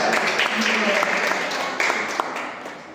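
A church congregation at a Christmas gathering claps loudly, making a dense, close burst of applause that fades gradually over three seconds.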